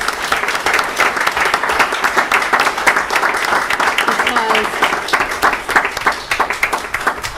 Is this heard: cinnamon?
no